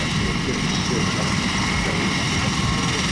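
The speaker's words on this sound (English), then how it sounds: "Tiltrotor. An aircraft with tiltable rotors, capable of vertical takeoff and landing like a helicopter and horizontal flight, like a fixed-wing airplane." A tiltrotor aircraft's engine and rotors give a continuous, loud, broadband roar with a low rumbling throb underneath, steady throughout with no pause.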